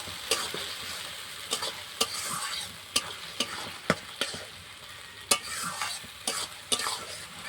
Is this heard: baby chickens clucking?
no